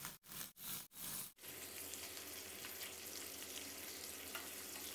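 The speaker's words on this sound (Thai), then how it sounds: "ใส่น้ำมันลงไปในกระทะบางๆนะครับแล้วก็นำเบคอนของเรามาทอดให้สุกเลยครับ" Bacon frying in a thin layer of oil in a pan, a continuous close sizzle and crackle after a few brief cuts at the start, steady and moderately loud with no talk.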